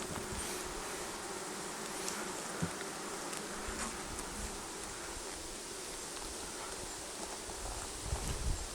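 Honeybees in an opened hive being inspected by a beekeeper, a dense, steady buzz filling the space at close range, with a few light knocks and rustles of frames and no voices.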